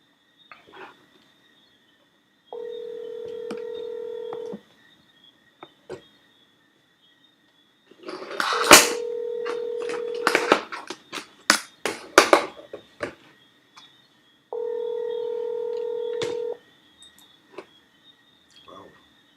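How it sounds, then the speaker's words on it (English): An unanswered telephone rings in three long, evenly spaced tonal bursts, each about two seconds, with clattering and tapping noises filling the gap between the first and second rings. "Phone ringing without an answer."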